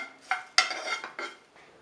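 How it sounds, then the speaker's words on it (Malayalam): Scraping and clinking of a spoon against a pan as flattened rice is roasted in ghee until crisp, tossed and stirred in a few short bursts with no talking. "നല്ല ക്രിസ്പി ആവുന്നത് വരെ ചെറുതായിട്ടൊന്ന് റോസ്റ്റ് ചെയ്യാം"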